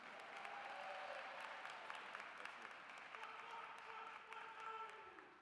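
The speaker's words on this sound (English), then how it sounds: "Let's give a huge round of applause to Mr. Babatunde Onadeli Jr." An audience at a university Black commencement celebration applauds continuously, a dense steady wash of clapping heard from some distance that holds through to the end without fading.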